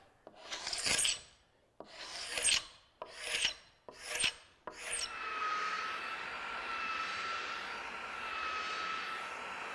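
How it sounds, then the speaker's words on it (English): A regular paint scraper rasps excess glue off wood while building a boat transom, five separate close scraping strokes followed by a steady distant drone. "I'm just going to use a regular paint scraper to do that."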